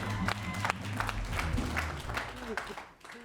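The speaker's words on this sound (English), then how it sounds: "Let's all give this gentleman a round of applause." A late-night comedy show crowd claps for a man in the audience, a dense round of applause with a voice talking over it, fading toward the end.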